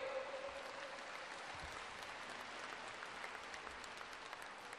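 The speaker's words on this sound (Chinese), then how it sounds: "好，掌声鼓励。" An audience applauds at a junior men's 1000 m speed skating semi-final, a steady, fairly faint patter of many hands from a distant crowd that carries through the whole span.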